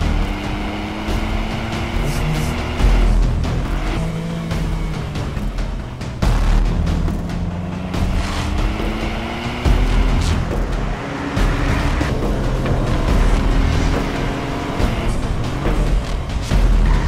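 Ford Fiesta ST driven on a mountain road, its engine note rising and falling through the gears as it accelerates, loud and close throughout with a steady roar and no talking.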